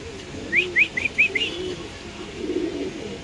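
At a pigeon farm, Danish pigeons of a Pakistani breed make a quick series of five short, bright rising chirps close by, followed by quieter low background murmur with no talk.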